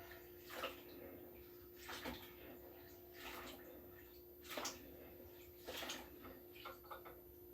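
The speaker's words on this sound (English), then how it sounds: "rinse the spinach a little bit." Spinach being rinsed in a bowl of water: irregular sloshing splashes and swishes every second or so over a steady faint hum, fairly quiet and close, without speech.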